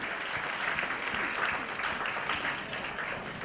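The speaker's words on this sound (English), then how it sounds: "So another round of thundering applause for yourself," An audience at a panel discussion applauds in a dense, steady wash of many hands, moderately distant and continuous throughout without breaks.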